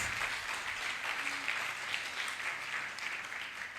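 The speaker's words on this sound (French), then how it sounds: "Acclame très fort" A church congregation bursts into loud, dense applause, a steady wash of clapping from many hands that fills the room without pause.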